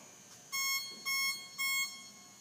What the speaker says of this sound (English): I waited for that beep right there